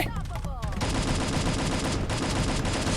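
Dense, loud gunfire from the video game Free Fire, with rapid overlapping shots and volleys crackling continuously throughout, close and intense with no pauses.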